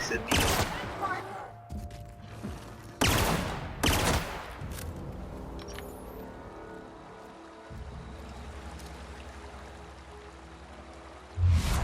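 Several loud rifle shots from a sniping rifle in The Outer Worlds sci-fi shooter game, spaced a few seconds apart with sharp broadband cracks, then a low rumbling ambient bed and one more burst near the end.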